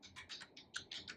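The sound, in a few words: pressing the Enter key on a computer keyboard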